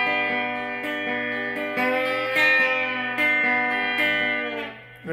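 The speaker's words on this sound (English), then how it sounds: "So you bend and you use this finger to help you bend the string." Sustained electric guitar lines with a string bent up and down, smooth gliding pitch over held notes, steady and fairly loud before fading at the end, from a lesson on a song.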